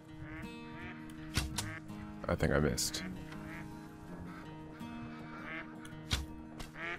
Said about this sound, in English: There's ducks in front of me, so I think I'm going to try to take one out